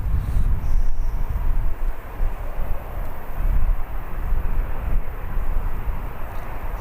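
An airliner taking off at Birmingham Airport, a steady broadband jet roar with strong low rumble that holds loud and even throughout, slightly buffeted by wind noise.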